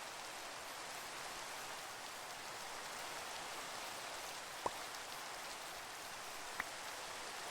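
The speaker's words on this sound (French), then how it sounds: "Il pleut." Steady rain falls at a foggy campsite, a constant even hiss of drops with two sharp single drip taps standing out near the end.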